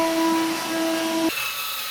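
A vacuum machine cleaning a concrete floor during polishing whines steadily up close, then cuts to a lower, rougher hum partway through.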